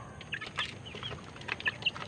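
Brooding hens on a small farm let out a few faint, scattered clucks alongside light rustling or flapping, quiet and brief, with no talking.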